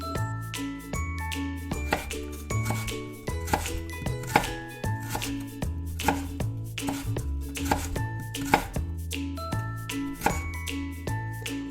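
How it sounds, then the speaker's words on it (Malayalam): Rapid, steady knife chopping of vegetables on a board for a village-style crab roast, close and crisp with regular bursts of strokes and occasional light clinks, no talking. "അപ്പോൾ ആ സമയം കൊണ്ട് നമുക്ക് പച്ചക്കറികളെല്ലാം അരിഞ്ഞു വെക്കാം."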